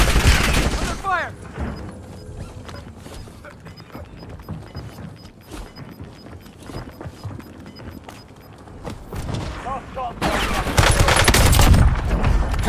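Gunfire in the video game Call of Duty Warzone, set in Verdansk: dense rattling bursts of shots run throughout, joined near the end by a loud crashing surge, with speech-like game voices mixed in.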